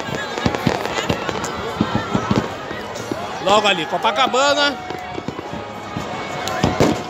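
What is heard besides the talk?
New Year fireworks exploding over Icaraí beach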